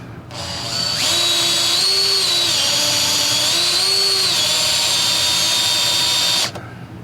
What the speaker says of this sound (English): just set up a little pilot hole